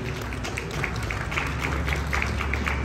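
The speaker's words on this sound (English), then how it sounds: "Let's go ahead and give another big round of applause for Boston Dynamics and Spot." Applause from a presentation audience at CES, a steady even patter of clapping spread through the room, moderately loud with no voices over it.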